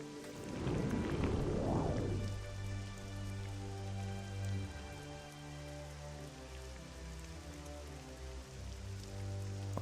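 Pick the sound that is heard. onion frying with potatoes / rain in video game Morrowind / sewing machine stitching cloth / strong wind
rain in video game Morrowind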